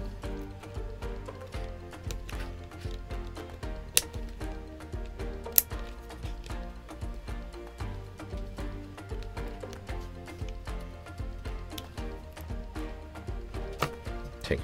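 Old keycaps are popped off a Halo75 tray-mount keyboard one after another, producing a steady series of small, close, sharp plastic clicks and taps with a few louder snaps.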